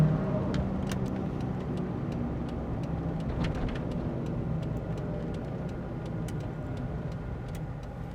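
A 1991 Ford Bronco 4x4 Eddie Bauer Edition engine idles with a steady low rumble, with faint clicks and ticks scattered over it and no voices.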